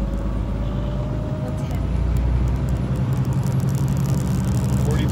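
A loaded Kenworth semi truck hauling 42,000 pounds of dog food accelerates, its diesel engine a deep, steady, close rumble that grows heavier partway through, with a faint high whine above.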